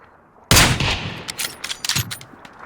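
Gunfire in the video game PUBG opens with one loud, close shot, followed by a quick scatter of sharper cracks and reports over the next two seconds.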